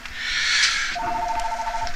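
A telephone rings faintly in a room as a thin, pulsing electronic tone under low background noise.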